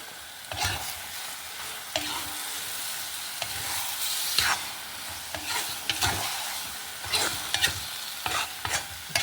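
Tomato paste, a little sugar and garam masala are stir-fried until dry, a quiet sizzle under scattered scrapes of a spoon against the pan, heard alone without talk.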